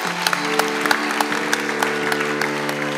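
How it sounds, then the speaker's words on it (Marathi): An audience at a staged cultural performance event breaks into steady, sustained applause, with dense overlapping claps throughout and a low tonal hum or held note running underneath. "सुधाताईंसाठी एकदा जोरदार टाळ्यांचा गजर करूया"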